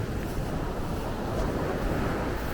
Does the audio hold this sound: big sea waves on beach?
yes